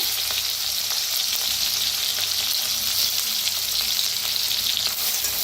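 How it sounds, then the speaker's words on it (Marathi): Crushed green chili, garlic and cumin paste hits hot oil and fries with a dense, continuous hiss and sizzle, close and steady, with light stirring mixed in. "आता तेल चांगलं गरम झालेलं आहे, वाटण टाकूया जे आपण हिरवी मिरची, लसूण, जिरं चेचलेलं"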